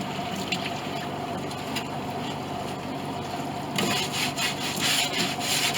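Hide glue being scrubbed and rinsed off a wooden board during an 1886 Steinway upright piano rebuild, with steady running water and rubbing that grows louder and brighter in the last two seconds.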